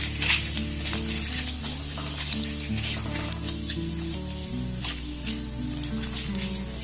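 Whole cardamom, cloves, cinnamon stick, bay leaf and cumin seeds sizzle in hot oil in a pan, a steady close crackle with small pops and occasional stirring, no talk.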